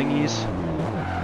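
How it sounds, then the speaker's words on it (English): A car in the Forza Horizon 2 video game makes a brief handbrake-turn skid with a short tire squeal over engine noise, while a person talks over it. "Handbrake turn."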